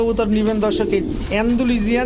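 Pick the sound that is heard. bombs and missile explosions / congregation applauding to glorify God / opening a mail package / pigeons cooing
pigeons cooing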